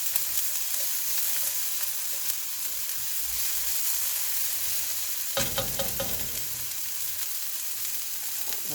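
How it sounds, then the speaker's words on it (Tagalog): Onions sizzling and frying in a pan for a beef stir fry, a steady crackle throughout with a louder burst of stirring and spattering partway through, no talking. "We need to cook the onion, guys, little bit brown."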